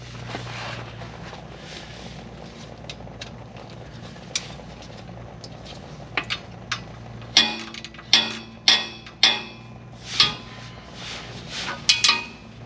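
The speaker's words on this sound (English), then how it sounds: "move my pans a little bit here." Metal transmission drain pans under a Chevrolet Express or GMC Savana van clank and scrape as they are shifted, a series of sharp ringing knocks in the second half over a faint background rumble.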